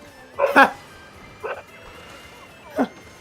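A pet dog named Sadie barks indoors in three short, sharp bursts spaced across a few seconds, fairly close but modest in level, with faint room noise between.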